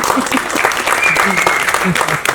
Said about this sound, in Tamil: அது இந்த காலகட்டத்தில் அதுக்கே தனியாக நீங்கள் அவருக்கு ஒரு கைத்தட்டல் கொடுக்கலாம்